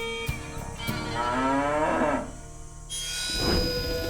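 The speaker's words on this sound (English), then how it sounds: "We were feeding the cows in the barn" Cattle mooing inside a dairy barn, two long drawn-out lowing calls close by, one swelling over the first half and another starting near the end, with harmonic bellows and no talk.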